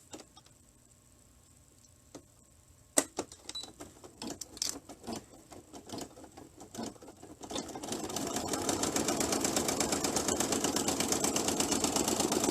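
An embroidery sewing machine stitching a diagonal zipper bag starts with scattered ticks and short bursts, then settles into a loud, fast, steady mechanical stitching rhythm that continues to the end.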